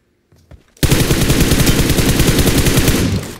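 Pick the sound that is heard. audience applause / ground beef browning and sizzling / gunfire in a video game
gunfire in a video game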